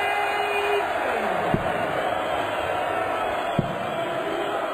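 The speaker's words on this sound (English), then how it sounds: "Crowd are loving this." Arena crowd noise from a packed darts hall at Alexandra Palace during a PDC World Championship match, a steady broad roar of cheering that holds throughout with two sharp thuds.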